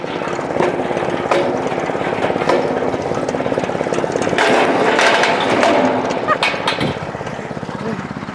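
A kinetic log splitter rated at 10 tons, with its engine running loudly and steadily while it splits a tamarind log, and a person talking over the constant machine drone.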